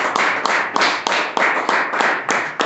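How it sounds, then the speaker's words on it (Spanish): A church congregation claps in unison, loud rhythmic hand claps at a brisk even pace, about four per second, with no talking over them. "Dale el aplauso fuerte al Señor."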